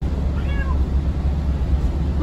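A cat gives one short meow inside a camper van while it drives along, a brief faint cry over a loud steady road rumble.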